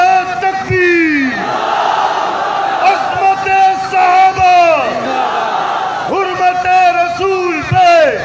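A crowd at a rally in Karachi shouts the Takbir slogan in loud, bellowing waves of massed voices, the chant swelling and breaking off several times in close succession.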